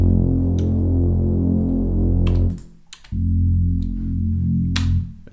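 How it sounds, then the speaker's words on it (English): A dark, droning Reese bass synth without EQ holds long sustained low notes, thick and buzzy with bright upper harmonics, cutting off briefly before resuming and then stopping. "So then I added a Reese bass."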